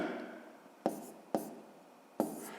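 Hand writing numbers on paper during a fifth-grade maths exercise, a faint close scratching of the pen broken by three sharp taps as strokes begin.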